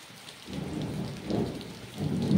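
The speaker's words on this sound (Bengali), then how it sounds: "গ্রাম বাংলায় দেখছো কত সুন্দর বৃষ্টি পড়ছে" Rain pours steadily over a village surrounded by green trees and mango trees, with dull rolls of thunder swelling twice amid the close, continuous downpour; no one speaks.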